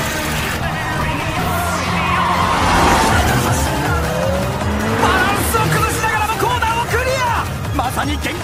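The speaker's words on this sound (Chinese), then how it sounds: "油门踩到油箱盖的86即将跑完这段直线" An animated Toyota 86 race car with a 2.0 naturally aspirated engine runs at full throttle down a straight, its engine roaring loudly and steadily with tire squeal and other cars close by.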